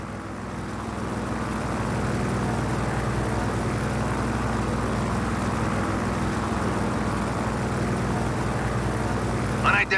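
An aircraft flies in Just Cause 4, giving a steady droning engine roar that holds throughout, with a radio voice speaking over it.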